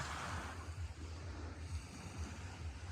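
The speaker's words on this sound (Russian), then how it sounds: "Прям катятся и катятся камушки. Тут-то понятно, что море шумит." Sea surf washing over a pebble shore, a soft, continuous rush with rolling, rattling stones and low wave rumble, heard close and fairly quiet with no talking.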